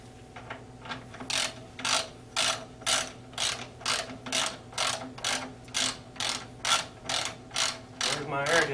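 Hand ratchet wrench tightening bolts during a 14-inch Lipe clutch installation, a steady run of about fourteen evenly spaced ratcheting strokes, close and clear, with no talk.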